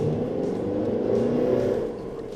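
A Mercedes GLA engine revs hard under full throttle, a steady loud drone that climbs and holds for a couple of seconds before easing slightly.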